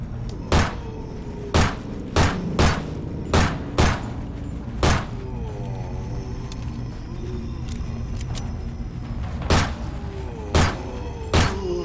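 Gunshots in a first-person horror video game, about a dozen heavy booming shots fired irregularly one after another, loud and close over a low droning background.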